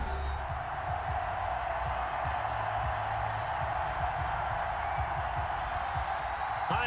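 A packed stadium crowd at an NFL video-game matchup between the Atlanta Falcons and the Brooklyn Bulls, a steady dense roar of cheering that fills the whole stretch, with a broadcast voice talking over it.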